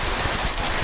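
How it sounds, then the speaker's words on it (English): Steady, dense rain hisses across the whole moment in a good soaking downpour, loud and close with no break; no thunder stands out in this short stretch. "A nice little rain, a little bit of lightning here and there."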